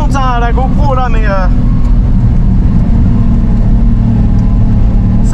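A car engine revs hard while the tyres spin, giving a loud, continuous, close roar with rising and falling pitch sweeps at the start, then a steady droning engine note, heard from inside or near the car.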